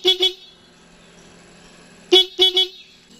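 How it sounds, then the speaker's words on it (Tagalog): Two short stock horn beeps from a Yamaha Mio i 125 scooter, then a pause, then three more quick beeps in a row, loud and close. "Try muna natin ang stock horn mga idol."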